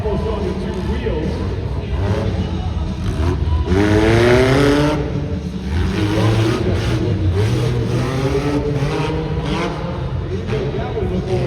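A stunt car at a motorsports thrill show drives hard and tips up nearly onto two wheels, its engine roaring steadily with a surge near the middle, while an announcer talks continuously over the arena noise.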